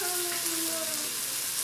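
Chicken sizzles and fries steadily in a pan as it is turned, a continuous close hiss with soft tonal squeaks from the pan.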